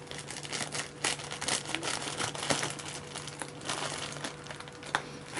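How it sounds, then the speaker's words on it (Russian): Taco shells and Pop Tarts being unpacked from their packaging, a steady run of close plastic crinkling and rustling with occasional sharper crackles, continuous over several seconds with no voices. "Сейчас я их просто распакую."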